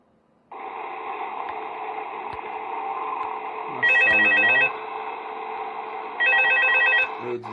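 A telephone rings twice in Five Nights at Freddy's 2, loud electronic double bursts over a steady droning game background hum.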